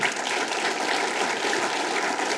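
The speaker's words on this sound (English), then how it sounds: "please give a round of applause to all of our panelists today" An audience at a panel discussion on Lake Michigan and the Chicago megacity gives the panelists steady, dense applause, a full even wash of many hands clapping without letup and no voices.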